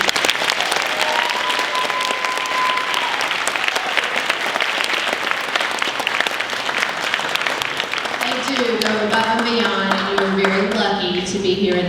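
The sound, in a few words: applause for the teachers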